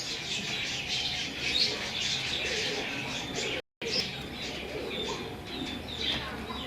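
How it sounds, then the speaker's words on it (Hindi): Blue pigeons of the chini line in a loft in Kasur give soft, continuous cooing with scattered chirps and squawks, fairly faint beneath general background noise, with a brief dropout midway. "ये देखें जी उस्ताद जी का नीला कबूतर।"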